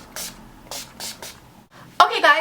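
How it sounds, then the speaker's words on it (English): Makeup finishing spray misted in several short, breathy hissing puffs, and then a person starts talking. "Okay, we need to set this with some finishing spray."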